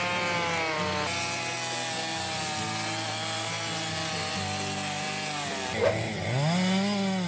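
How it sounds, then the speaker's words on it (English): A chainsaw engine drones loud and steady, its pitch shifting as it bites into a tree trunk and revs up near the end. "The Terminator chainsaw roars like a symphony of raw power."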